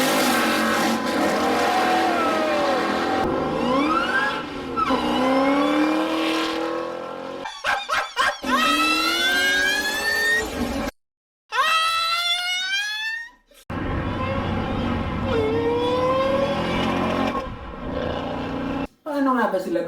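A supercharged car engine revs hard in loud, rising bursts with tire squeal and brief pauses between runs, close and dominant throughout.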